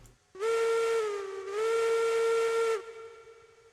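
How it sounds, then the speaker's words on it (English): The steam locomotive whistle in the video game Railroads Online blows in one long, loud, close blast of about two and a half seconds. It dips briefly in the middle, then fades to a soft hiss. "No, I don't need to blow the whistle, but it makes me happy"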